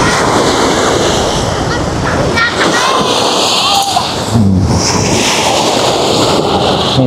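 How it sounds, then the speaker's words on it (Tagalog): Wind-driven sea waves surge and roll steadily onto a white-sand beach at Amaya near Bulungan, with constant gusty wind buffeting the microphone and dull thuds of surf throughout. "Mahangin, maalon."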